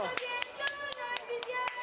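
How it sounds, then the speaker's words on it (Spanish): A group claps in a brisk, regular rhythm, about four sharp claps a second, while voices, including a child's, sing or call out over the beat. "ahora sí, un aplauso"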